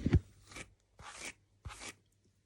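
Rough brushing through hair, three short dry crunchy strokes spaced about half a second apart, close and fairly quiet with silence between.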